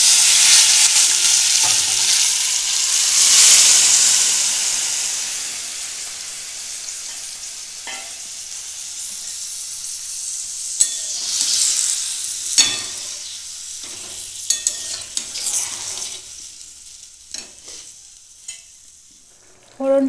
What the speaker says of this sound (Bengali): এখন আমি তরকারিটা ঢেলে দেবো।